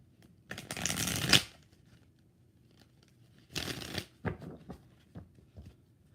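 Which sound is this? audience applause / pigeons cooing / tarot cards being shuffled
tarot cards being shuffled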